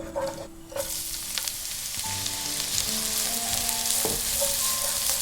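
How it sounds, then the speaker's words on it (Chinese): Chopped scallions stir-fried in melted lard to make scallion oil for a pork zongzi filling, a steady close sizzle running the whole time with a few spatula scrapes, with a faint tonal background underneath and no talking. "接下来开始炒葱油"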